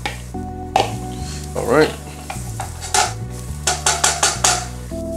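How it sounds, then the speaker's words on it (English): Onions sautéing in a hot pan, with a soft sizzle under repeated scraping and stirring clatter of a utensil against the pan, ending in a quick run of sharp taps; a voice speaks briefly. "Go ahead and get these onions sauteed."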